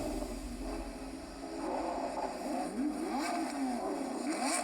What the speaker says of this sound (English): Race 1, we got the champ in the RX-7 in the inside front lane going against Georgie